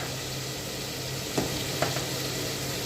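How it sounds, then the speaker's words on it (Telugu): Onion and tomato frying in a pan, a steady soft sizzle with two brief stirring scrapes partway through, close and fairly quiet with no talking. "వేగిపోయింది ఉల్లిపాయ టమాటా."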